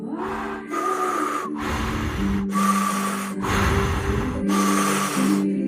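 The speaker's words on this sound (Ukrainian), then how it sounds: "І потім те саме я роблю тільки ротом через трубочку." Slow, deep breaths drawn in and pushed out through the mouth via a drinking straw, about five long airy cycles with brief pauses between, close and steady with no talking.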